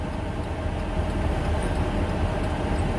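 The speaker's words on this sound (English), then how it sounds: "We got a train coming." An approaching train as a steady, broad low rumble that builds slightly, heard from inside a car.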